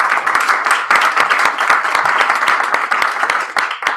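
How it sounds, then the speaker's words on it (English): Audience applause for a panel at a solar-energy storytelling and beer event, a lively crowd clapping with distinct individual claps standing out, sustained at an even level. "A quick round of applause for our panel."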